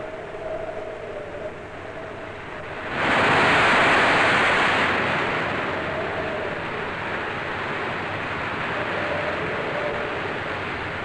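Rough, windy ocean waves surge around a passenger liner at sea, a steady rushing wash with a heavier swell breaking loudly in the middle before settling back to a constant roar.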